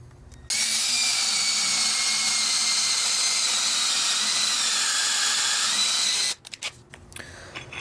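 Power drill boring holes in metal brackets for a Mustang, a steady, loud, high-pitched whine held for about six seconds before stopping, followed by a few light clanks.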